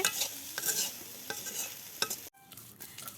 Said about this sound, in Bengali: এখন আম্মু ভর্তা বেটে নিচ্ছে